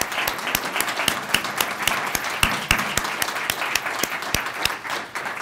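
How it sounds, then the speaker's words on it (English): An audience at an Aboriginal policy lecture applauds steadily, a dense close wash of clapping with sharp individual claps standing out throughout. "Let's all give Katherine a round of applause."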